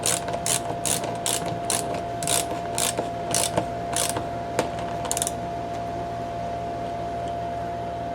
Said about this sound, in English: and now I can tighten it back down.